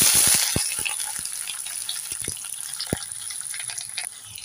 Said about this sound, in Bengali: এবার নেড়ে চেড়ে পেঁয়াজগুলোকে 1 মিনিট ভেজে নেব।